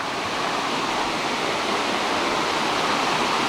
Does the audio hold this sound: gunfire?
no